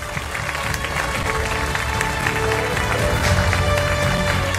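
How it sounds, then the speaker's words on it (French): An audience at a 10th-anniversary celebration in Madagascar applauds as a cake is brought on stage, a dense, continuous wash of clapping from a large crowd that holds steady throughout. "Sous vos applaudissements"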